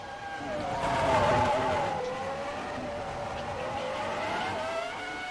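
Race cars lap a circuit in a GP1 racing video game, engines whining at steady pitch with a rising and falling tone that swells near the start and then holds, some tire noise mixed in.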